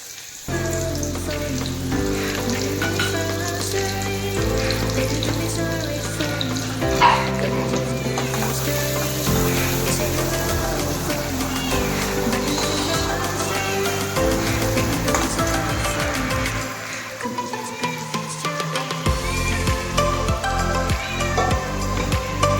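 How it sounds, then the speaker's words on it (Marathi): Finely chopped onion sizzles in hot oil in a pan for a mutton masala, a steady crackling frying noise heard throughout beneath prominent background music. "तेल गरम झालं की हा बारीक चिरलेला कांदा तेलामध्ये टाकून घेऊ."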